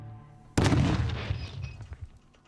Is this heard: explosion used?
yes